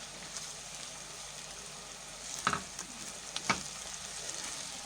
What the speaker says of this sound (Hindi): और इसे भी हम 2 से 3 मिनट तक फ्राई करेंगे।